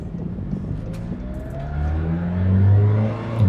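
A 2019 McLaren Senna MSO accelerates through a quick U-turn, its engine note climbing from a steady low rumble into a louder, rising roar near the end; close and alone, with no talk.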